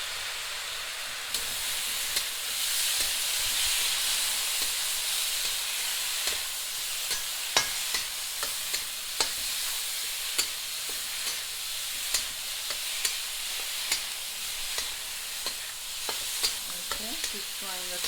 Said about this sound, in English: keep frying the tomatoes